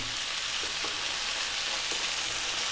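Mushrooms, tomatoes and parsley sizzle in a pan on high heat with a steady, close, broadband hiss and faint stirring taps underneath.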